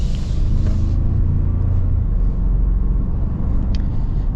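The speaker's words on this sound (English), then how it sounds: "Turbo engine's strong." A 2025 Toyota Tacoma Limited with a turbo engine and full-time four-wheel drive, heard from inside as a steady low engine drone and road rumble while driving, continuous and fairly loud with no talk.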